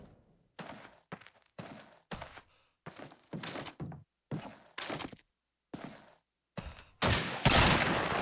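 Gunfire from a Call of Duty 2 competitive match: a series of sharp, separate shots spaced roughly half a second apart, followed by a louder, denser burst near the end.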